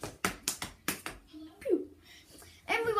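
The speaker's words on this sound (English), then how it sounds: "I don't know why I keep clapping." Hands clapping in a series of sharp, close claps, about six in quick uneven rhythm, followed by a voice and a few softer taps.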